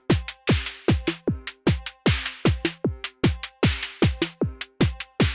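Hi-hats from an Axoloti drum synthesizer, crisp hissy ticks and a longer open wash riding over a steady electronic drum loop with kicks and snares, no talking.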